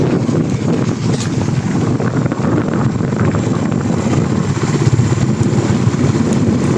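Motorcycle ride on the road, with steady, loud wind buffeting the microphone and a continuous low engine drone running throughout.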